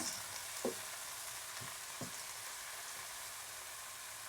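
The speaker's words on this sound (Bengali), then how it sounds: "চিংড়ি মাছগুলো দিয়ে দেব দিয়ে একটু নেড়ে নেব" Cubed tomatoes and shrimp in a pan for a red amaranth leaf curry, a faint soft sizzle under a few light scrapes and taps of stirring, quiet and without voices.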